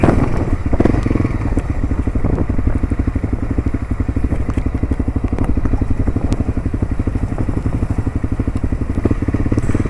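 Heavy traffic climbing the Khao Chong Tako mountain pass, with motorcycle and vehicle engines revving steadily and close by, a dense continuous rumble with occasional clattering thumps and no talking.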